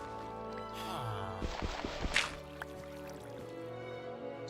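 Water placed from a bucket in Minecraft, a soft liquid splash and trickle with a few dripping pops, heard alone over faint game background.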